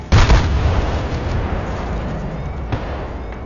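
An artillery strike lands in Battlefield: Bad Company 2 with one loud, close, booming blast that rumbles and then tails off into a long fading wash of noise.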